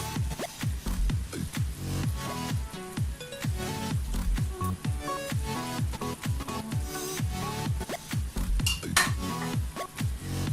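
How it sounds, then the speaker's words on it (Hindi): Cooked mixed vegetable sabzi is scraped and served out of a pan, with repeated metallic scrapes, clinks and knocks of a spoon against the pan in an uneven rhythm, close up and fairly loud, without speech. "अब हम इसको डिश आउट करते हैं।"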